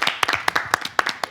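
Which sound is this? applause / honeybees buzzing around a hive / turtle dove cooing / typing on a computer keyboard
applause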